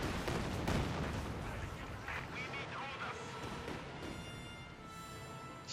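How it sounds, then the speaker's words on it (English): A Katyusha rocket barrage in the Company of Heroes 2 strategy game rumbles and crackles continuously, a dense wash of distant explosions with a few sharper bursts. "We've got another Katyusha barrage here."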